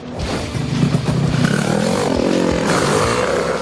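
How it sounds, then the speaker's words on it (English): Go-kart engine running steadily at speed, a continuous loud buzzing drone with a rough mechanical texture and no pauses, heard close throughout. "Today, nothing has changed except the go-karts are just a little faster."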